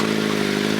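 A motorcycle engine runs steadily and loud at a car meet, a continuous mid-pitched drone with a rough, harmonic throb throughout, close by and without talk.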